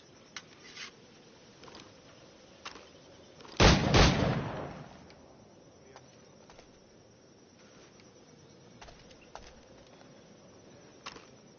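A single loud firearm shot with a short rolling echo in the pirate-era game Assassin's Creed Black Flag, standing out against a quiet ambient bed of faint birdlike chirps and small ticks.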